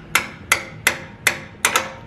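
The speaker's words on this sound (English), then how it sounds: "Grab your hammer. And again, don't, you know, hit it hard." Hammer lightly tapping an annular cutter on a drill press to knock it free: five crisp metallic taps at an even pace, close and clear with nothing else heard.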